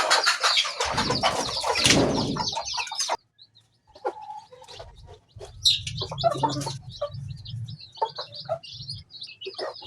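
Chickens cluck and chirp in a backyard, with a burst of noisy rustling and scratching near the start, then scattered clucks and soft bird calls after a brief lull.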